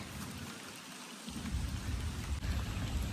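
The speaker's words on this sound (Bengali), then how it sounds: "বৃষ্টি এখন অনেক বেশি জোরে নামতেছে" Heavy rain pours steadily over a sandy-soiled village pond area in Bangladesh, a dense, loud hiss with a deep rumble of thunder swelling in partway through and continuing to the end.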